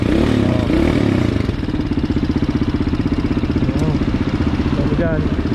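Small motorcycle engine starting and idling during a repair for a stalling fault, a close, steady, rapid putter with some clatter and people talking nearby.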